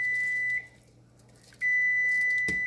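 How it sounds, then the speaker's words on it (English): A kitchen timer goes off while garlic chili oil is being made. It gives two steady, high beeps separated by a brief pause, the second longer and ending with a small click. Both are close and clear, with no voices. "So that's my timer."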